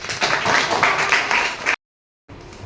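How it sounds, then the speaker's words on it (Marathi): A classroom of students claps in a burst of dense, lively applause that stops abruptly, followed by a brief silence and a faint resumption. "Very good. टाळ्या याच्यासाठी."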